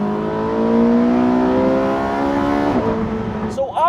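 A Porsche 918 Spyder's engine revs up through a rising, harmonic-rich pitch while driving, then lifts off near the end.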